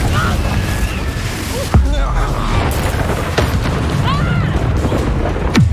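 A Confringo fire-blast spell explodes in the Hogwarts Legacy video game: a sharp boom bursts out amid dense battle effects and music, with further thuds and magical whooshes following through the fight.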